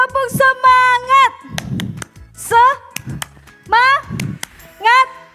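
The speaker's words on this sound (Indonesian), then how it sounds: "1, 2, 3, tepuk semangat." Children at a kids' Sunday service clap their hands in short bursts of sharp, loud claps between chanted group voices, the clapping repeating in quick rhythmic groups alongside the singing.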